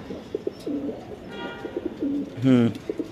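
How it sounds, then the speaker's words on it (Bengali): A 2022 grizzle racer pigeon gives short, close coos in quick bursts, with a louder throaty call near the end and a brief voice in the background. "2022 এর কবুতর।"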